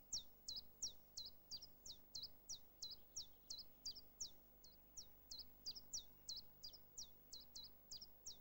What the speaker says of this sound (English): The chiffchaff has a very recognisable repetitive phrase.